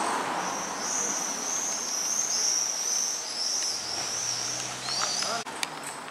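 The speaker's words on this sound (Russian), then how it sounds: "Птички летают. Слышно, как они поют." Outdoors, on a walk, birds sing in a high, continuous chirping that runs throughout with insect-like trilling, moderately near, over a soft background and brief voices near the end.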